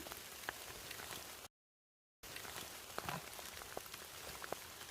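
Steady rain falls in a forest while mushrooms are gathered, a dense even patter with scattered louder drops striking nearby, broken by a short gap of silence.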